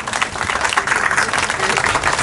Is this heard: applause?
yes